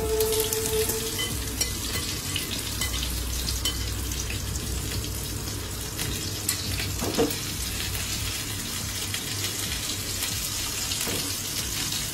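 Pointed gourd pieces coated in salt and turmeric fry in hot oil, a continuous dense hissing sizzle that stays loud and even for the whole stretch with no voices.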